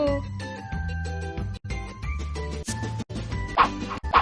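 A few short, sharp dog barks ring out over a bright, cheerful musical backing, with the barks standing out near the end.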